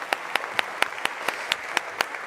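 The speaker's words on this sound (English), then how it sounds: "A round of applause." Sparse, distinct hand claps ring out at a steady pace, roughly four per second, over a quiet room murmur—a small, fading round of applause.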